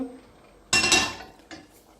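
A utensil stirring food in a metal pot, giving a sharp clattering scrape followed by a second shorter clink, close and brief with quiet gaps around them.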